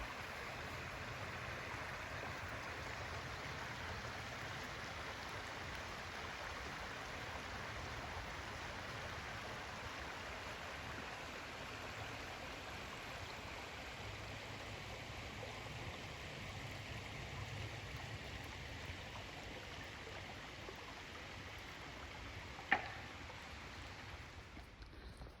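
Water flows steadily in Sagamore Creek, a constant close rushing babble with no voices, broken once near the end by a brief sharp click.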